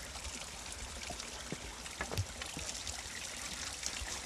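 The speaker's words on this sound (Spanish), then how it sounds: "una bonita fuente con alguna inscripción" Water trickles from a stone roadside fountain along an old royal road, a steady soft splashing stream with small irregular drips, heard close and alone without voices.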